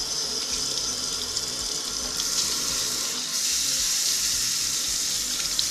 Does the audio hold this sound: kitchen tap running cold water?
yes